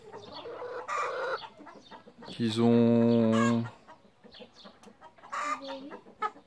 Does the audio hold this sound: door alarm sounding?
no